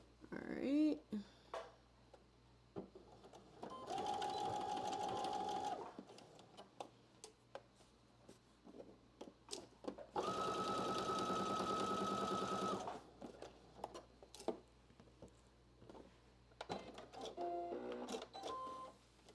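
A sewing machine stitches a dart in muslin in two separate bursts of steady whirring, each a few seconds long, between quieter stretches of clicks, handling noises and a voice talking.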